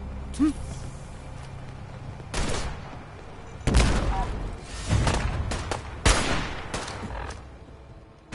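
A video-game gunfire volley rings out in bursts of loud, sharp shots separated by rumbling pauses, with shouted voices mixed in among the firing.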